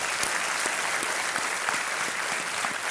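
A studio audience at a television quiz show applauds to welcome a guest, a dense, even roar of clapping that holds steady at full strength throughout.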